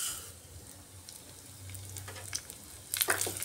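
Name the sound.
frying mung dal in mustard oil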